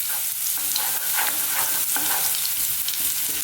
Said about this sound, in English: just fry this garlic on its own, just for a few seconds, so we get a little bit of colour in it